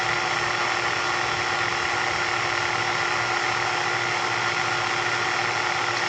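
A vacuum pump running on a Carrier air conditioning system being serviced for a pressure switch replacement, giving a constant mechanical hum and whir that stays level and close throughout, with no talking.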